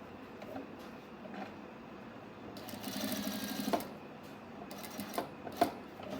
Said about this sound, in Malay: Terus jahit sepanjang 2 inci tadi, matikan ke atas juga.